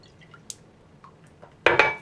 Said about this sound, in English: I'm going to show you water running out of my nose